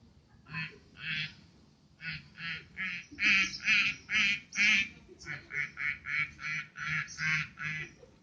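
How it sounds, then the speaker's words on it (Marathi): A duck quacks in a steady run of short, nasal calls, about a dozen in quick rhythm with brief pauses and a louder stretch midway. "नंतर बदकाचा आवाज"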